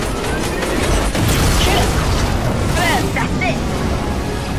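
The Zero Point collapsing during the Fortnite Chapter 3 Season 2 live event: a loud, continuous rumbling roar with heavy booms and crashing bursts, sustained without pause.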